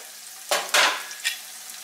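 Loud hiss and sizzle of eggs frying in a hot pan, with a few sharp bursts as they spit, close up and no talking.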